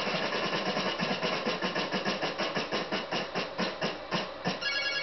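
The wheel spins in the NES Wheel of Fortune game, a steady train of evenly spaced electronic ticks with a buzzy, low-fidelity tone, continuous and fairly loud.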